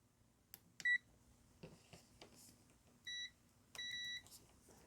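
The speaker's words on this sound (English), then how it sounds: "Next, let's do continuity test." A ZOYI ZT-701 pocket multimeter gives short electronic beeps during a continuity test, with one brief tone followed by two longer beeps in a quiet room, plus faint clicks from probe contact.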